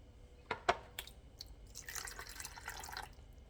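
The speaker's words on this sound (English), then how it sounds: "Since it's too thick, we'll just add some water." Water poured into a bowl of ketchup in a kitchen: a few distinct drips, then a soft splashing trickle, faint and close.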